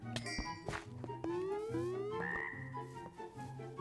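A poison frog in Minecraft croaks, mixed with chiming ding tones and short rising and sliding synthetic notes, all clear and prominent for several seconds with no talking.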